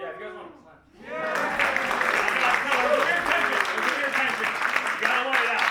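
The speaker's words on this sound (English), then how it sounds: "Yeah, if you guys want to clap." Audience applause at a live magic show breaks out after a short spoken lead-in and continues as loud, sustained clapping and cheering from a crowd, with a voice speaking over it.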